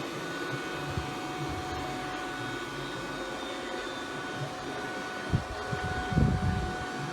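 A Stirling robot vacuum cleaner runs with a steady, continuous motor whir and hum, with a few louder bumps and rustles near the end.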